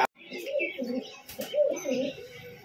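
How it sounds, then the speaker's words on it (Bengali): Murshidabad line pigeons coo close by in a series of soft, throaty, rolling calls, repeating in quick succession over a short span, with a brief rustle in between. "এটা হচ্ছে মুর্শিদাবাদ লাইনের পায়রা"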